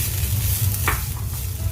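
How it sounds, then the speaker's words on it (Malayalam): Grated coconut roasting in a pan, stirred steadily with a soft continuous sizzle and scraping, close by with no talking. "ഇനി നമുക്ക് ഒരു 3/4 കപ്പ് തേങ്ങയാണ്, ഞാൻ ഒന്ന് ഒതുക്കിയെടുത്തതാണ്, ഇതൊന്ന് വറുത്തെടുക്കണം."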